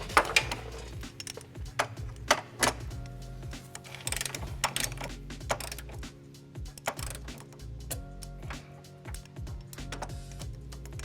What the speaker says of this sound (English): we're going to go ahead and torque them down. I'm using a torque wrench with a 5-inch extension and a 17mm socket.